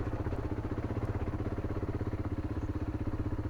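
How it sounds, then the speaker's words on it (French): Motorcycle engine pulling up a steep track during the 2024 WRTM rally in Morocco, a low, quiet, steady pulsing thrum with rapid regular beats and no voices. "On entend la moto."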